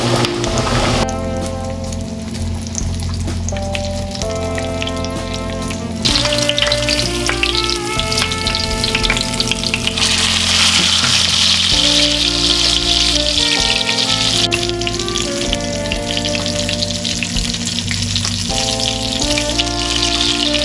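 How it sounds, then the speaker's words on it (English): Chicken breast shallow-frying in olive oil over high heat gives a loud, continuous, rain-like sizzle that runs throughout, with music playing over it and no speech. "All we're going to do is shallow fry this chicken breast in this olive oil until it's nice and crispy on both sides"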